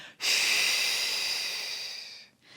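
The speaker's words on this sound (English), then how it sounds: "Now I'm kind of using a forced exhale there." A single forced exhale during beginner Pilates breathing, a strong breathy rush of air through the mouth lasting about two seconds, close and alone before fading.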